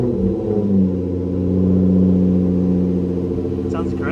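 A Nissan 350Z with a Motordyne Art Pipes exhaust and Megan Y-pipe runs close by, giving a deep, loud, throaty drone that swells briefly mid-rev and then settles, with no talking over it.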